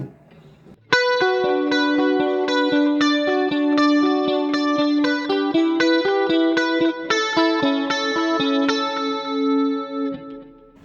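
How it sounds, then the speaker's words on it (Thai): Electric guitar through a Digitech RP500 picking a steady line of notes with a smooth, even compressed tone and a shimmering vintage chorus wash, played alone without talk. "ลองเปิดคอมเพรสเซอร์กับคอรัส"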